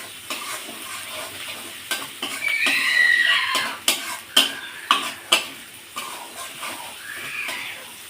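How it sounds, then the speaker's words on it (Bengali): A paste of ground mustard and cumin fries with potatoes in a pan, a steady sizzle broken by a series of sharp scraping stirs and clanks of the spoon against the pan, close and clear with no talk. "সরিষা জিরে বাটা দিয়ে বেশি কষাতে হবে না, সামান্য একটু কষিয়ে নিলেই হবে।"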